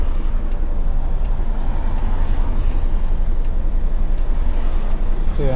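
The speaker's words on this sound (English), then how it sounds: "Lots of traffic." Steady, loud road traffic rumbles on continuously, with cars passing close by in a constant wash of engine and tire noise and no clear breaks.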